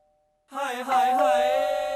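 A doorbell rings after a moment of silence, holding a loud, steady tone with a slight wobble near its start and no talk over it.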